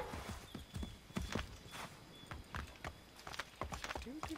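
Horse hooves clip-clop in Assassin's Creed 3, a string of sharp, irregular close hoof strikes on hard ground with an occasional whinny, under faint ambient background.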